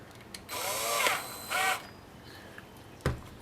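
A power drill whirs in two short bursts while carburetor cleaner is worked into a leaking carburetor's float needle seat, spinning briefly, stopping, and then running again. A single sharp knock follows.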